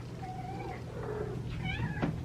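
Young kittens meow indoors at home, several rising and falling meows in a row, fairly close and clear over a steady low household hum, with no talking.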